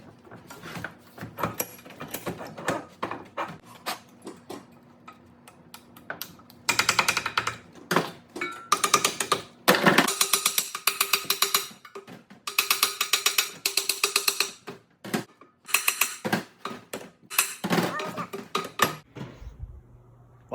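A ratchet socket wrench turns a bolt while a U-joint is fitted on a twin-turbo rat rod in a shop: quick bursts of rapid, close metallic clicking, repeated in uneven runs with short pauses between strokes.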